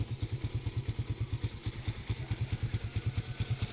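A Suzuki Raider F.I 150 motorcycle engine idling just after start-up, a close, loud, steady rapid putter with a regular pulsing beat and slight mechanical clatter, no voices.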